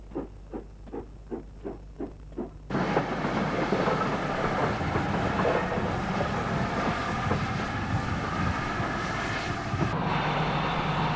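GWR steam locomotive 3440 City of Truro runs past on archive film. Several rhythmic puffs come first, then a loud, continuous roar of the train rushing by nearby, sustained for several seconds before easing slightly.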